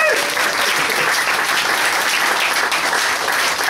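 Audience applause for a folk musician fills the room at a live music session, a dense, steady wash of clapping that holds at full strength from start to finish.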